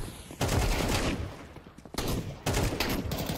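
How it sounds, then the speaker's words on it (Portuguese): Loud, close shotgun blasts in the Counter-Strike 2 video game, three heavy bursts with echoing tails, the first the longest. "eu assustei com o tiro de 12"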